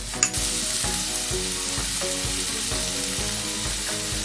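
Green chili and ginger sizzling and frying in hot oil for Gobi Manchurian, a steady close crackle with regular stirring scrapes roughly every half second throughout.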